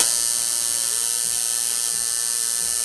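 A tattoo machine runs at a steady, even buzz for the whole stretch, a constant high-pitched electric drone with no pauses and no voices.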